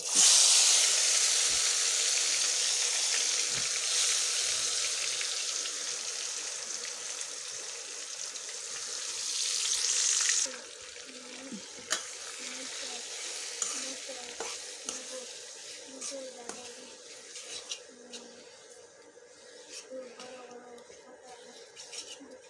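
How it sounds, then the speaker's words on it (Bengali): Beef pieces sautéed in hot mustard oil for a Bengali beef bhuna, a loud steady sizzle and hiss with stirring scrapes that drops to a quieter crackle about halfway through. "এখন আমি মাংসগুলো দিয়ে দিব কষিয়ে নেব"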